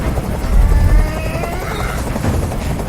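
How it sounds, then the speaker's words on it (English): A helicopter in the video game Detroit: Become Human roars nearby, a loud low rotor thumping with a throbbing drone that swells briefly before settling to a steady churn. "I can't stand that noise anymore. Tell that helicopter to get out of here."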